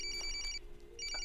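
A telephone bell rings in two loud bursts with a pause between, close by and clear with no one speaking over it.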